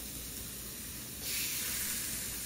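Brined chicken breasts hit a grill and set off a steady hiss that jumps louder partway through and then holds as a broad, even sizzle close by, with no talking.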